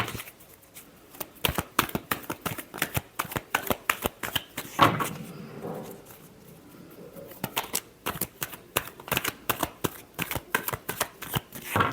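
Tarot cards being shuffled by hand in rapid riffling bursts of crisp flicking snaps, close and clear, with a brief pause in the middle before the shuffling resumes, no voices.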